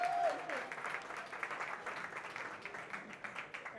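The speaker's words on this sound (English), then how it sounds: "Round of applause, please." Audience applause at a Bitcoin privacy conference as a speaker takes the stage, a steady dense wash of many hands clapping, moderately distant and sustained throughout without talk.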